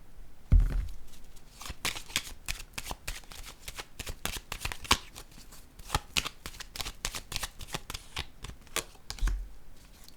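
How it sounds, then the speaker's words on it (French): Playing cards being laid down on a table during a group card game: a long run of sharp, dry slaps and flicks at an uneven pace, close and fairly loud, with a dull thump near the start and another near the end. "Je vais déposer une autre carte ici."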